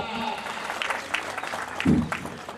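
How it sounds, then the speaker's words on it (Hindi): Audience applause greeting a chief development officer at a community talent-honouring ceremony in Karauli, a steady broadband patter of clapping under a voice speaking over a PA. "सभी तालियों गड़गड़ाहट से स्वागत करें हमारे सीडीओ साहब का।"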